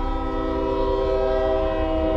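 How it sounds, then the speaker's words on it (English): A slow train rolls past nearby with its horn sounding as one steady, loud, sustained blast over a low rumble of the railcars. "this train is stinking slow"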